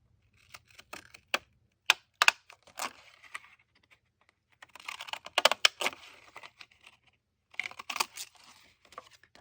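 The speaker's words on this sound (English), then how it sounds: "Let's use a fun scissors to do that." Decorative craft scissors trimming a thin strip off the edge of a journal page: quiet, close snips and paper rustles in short irregular bursts separated by pauses.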